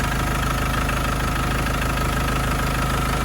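Land Rover Discovery 200tdi diesel engine idling after a new alternator fit, a steady, loud, continuous rumble with a knocking diesel clatter throughout, no talk.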